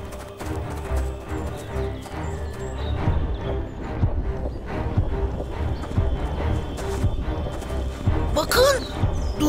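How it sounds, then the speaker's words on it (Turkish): Giant footsteps in a Turkish children's cartoon: heavy, repeated thudding stomps with clattering impacts keep pounding steadily and loudly throughout, ending in a brief crash. "Devlerin ayak sesine benziyor."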